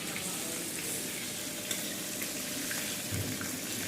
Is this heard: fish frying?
yes